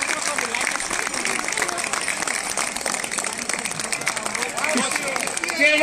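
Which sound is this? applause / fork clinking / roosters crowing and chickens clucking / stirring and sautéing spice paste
applause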